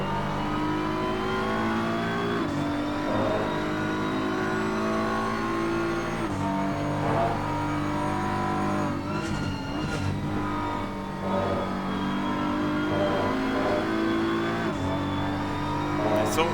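GT3 race cars in Assetto Corsa Competizione at Donington Park: steady, loud engine drone with rising and falling revs through gear changes, other cars' engines layered in, continuous throughout.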